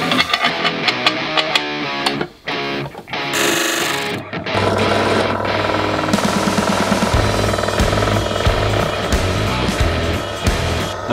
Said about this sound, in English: To make the plate, I'm going to use this piece of aluminum, stick a template on it and cut it out.